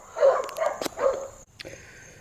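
Dogs bark nearby in a few short, close yelps and barks, fairly quiet, in a garage-like space.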